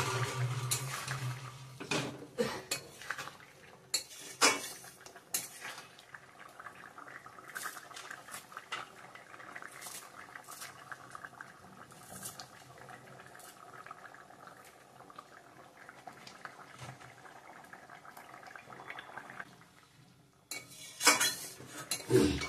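River fish go into a cooking pot with potatoes and vegetable stems. Clattering utensil and pot knocks start it off, then a long stretch of soft, steady bubbling and sizzling, with more clinks at the end; no talking.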